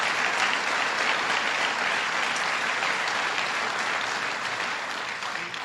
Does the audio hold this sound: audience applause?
yes